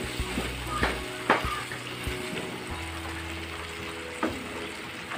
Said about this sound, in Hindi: इसमें हम टमाटर का पेस्ट डालेंगे। इसे भी हम भुनेंगे मसाले के साथ साथ।